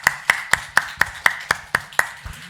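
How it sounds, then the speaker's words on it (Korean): A church congregation at a Sunday morning service claps in unison, about ten sharp, evenly spaced claps in a steady rhythm, close and clear. "우리 박수로 하나님께 영광 돌리시겠습니다"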